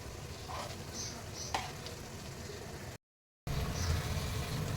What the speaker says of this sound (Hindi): हमारा ये मसाला अच्छे से भुन रहा है।